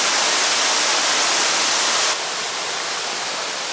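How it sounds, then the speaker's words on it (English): Water rushing down rapids and spilling into waterfalls at Franconia Notch, a loud, steady broadband roar that drops slightly in level partway through. "Beautiful rapids carved by the water rushing down,"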